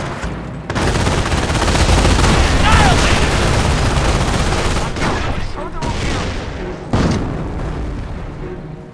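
Company of Heroes battle in Normandy near Vierville: sustained heavy gunfire and booming blasts as a forward emplacement comes under attack, dense and loud throughout with brief lulls around the middle and a sharp renewed burst near the end.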